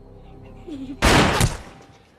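Gunfire erupts in a film scene: a sudden loud burst of rapid shots lasting about half a second, then decaying, following quieter background sound.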